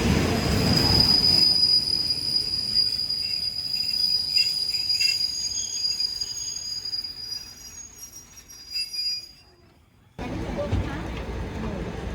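Local train 446 pulling slowly away from a station, its wheels giving a long, high, steady squeal alongside rumbling cars, with insects chirping in the background and a sudden cut near the end.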